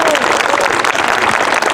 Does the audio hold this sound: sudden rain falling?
no